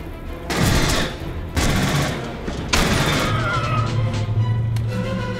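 Gunfire in a first-person shooter game set among colonial marines and aliens: three loud bursts of rapid automatic fire in separate volleys, with a sustained rumbling engine-like hum following the last burst.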